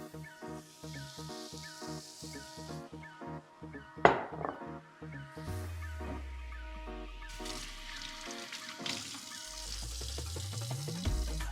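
Zucchini, eggplant, carrot, onion and tomato grilling in a pan give a quiet, steady sizzle, punctuated by a sharp metallic clank of cookware and occasional scraping, with music playing along and no talking.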